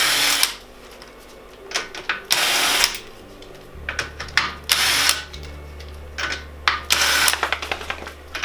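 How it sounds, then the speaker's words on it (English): An electric impact wrench removes a wheel from a Subaru during a CV axle replacement, giving several loud, short rattling bursts separated by pauses, with a low steady hum beneath the later bursts. "now we're going to remove the wheel with an electric impact wrench"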